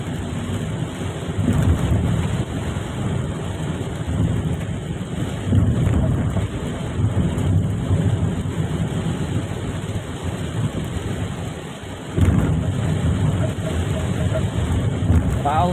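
Heavy Mumbai rain is heard from inside a car, a dense steady wash of drumming and rushing noise lasting throughout, with someone talking over it.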